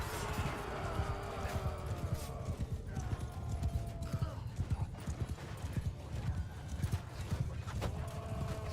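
Horses gallop in the medieval battle game Crusader Blade, a dense, steady clip-clop of many hooves with an occasional whinny, heard up close amid battle noise and someone talking over it.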